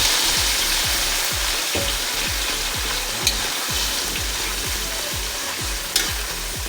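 Chicken intestines (isaw) fry in a pan with ginger, giving a steady sizzle over a quick, regular series of low scraping thumps from the stirring.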